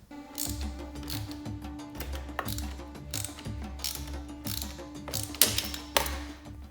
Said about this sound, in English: with a wrench holding the nut from underneath, tighten the screws near the brake light